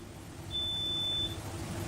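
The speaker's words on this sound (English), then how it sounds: "It's the washer." A washing machine sounds a single steady electronic beep lasting under a second, a thin high tone over low room hum, with no talk.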